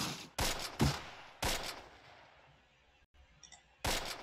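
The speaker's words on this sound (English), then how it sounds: "Get all these guys to put down some suppression fire on that team right there." Video game wartime battle gunfire in Close Combat Wacht am Rhein, laid down as suppressing fire: several loud, sharp bursts in an irregular rhythm, separated by quieter gaps with distant crackle.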